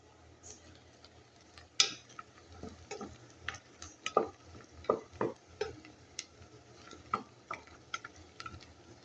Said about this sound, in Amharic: ሽንኩርታችን በዚህ መልኩ እየበሰለ ነው።